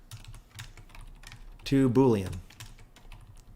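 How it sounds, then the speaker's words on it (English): Rapid typing on a computer keyboard while writing code, a steady stream of light clicks that runs throughout, briefly covered by a spoken phrase in the middle. "I'm on fire today for typing."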